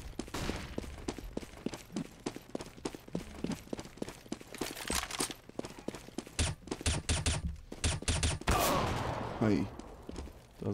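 Rapid gunfire bursts in a CS:GO match on de_inferno, many sharp shots in irregular clusters throughout, fairly close, with a louder swelling burst near the end and commentary voices underneath.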